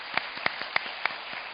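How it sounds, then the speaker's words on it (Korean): Scattered applause from a conference audience closes a Korea–Latin America forum session, a handful of distinct claps spaced out over muffled room noise, thin and somewhat distant. "오늘 좋은 발표와 토론을 해주신 5분께 큰 박수 부탁드립니다"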